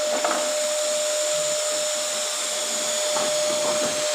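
An LG vacuum cleaner runs indoors with a steady, loud motor whine and airflow hiss held evenly throughout, with a constant high tone and faint bumps of handling.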